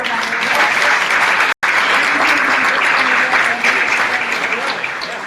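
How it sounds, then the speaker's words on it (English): Sustained applause from a church audience greeting the pastor's wife, a dense, steady wash of clapping close by that runs throughout with one brief cut-out. "Her name is Brenda Barrios, so you can give her a round of applause."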